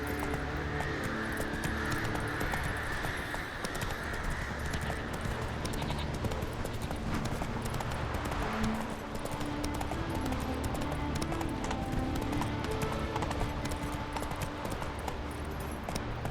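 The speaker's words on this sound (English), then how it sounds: "Move it. Whoa there, Roach" Horse hooves clip-clop steadily in The Witcher 3, a continuous rhythmic trot under a dense game soundscape with a low droning background, with no voices over it.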